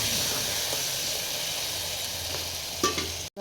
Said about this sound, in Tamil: இந்த பிரியாணி மசாலா சேர்த்துட்டு நல்லா வதக்குங்க.